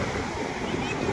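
Sea waves roll in at Dwarka beach as a dense, continuous wash of surf mixed with wind noise on the microphone, loud and steady, with no clear breaks.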